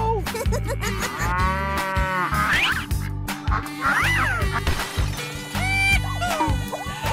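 A cartoon cow moos in a drawn, wavering call over a loud, busy musical backing with bass and bright melodic lines, in an animated animal ride scene.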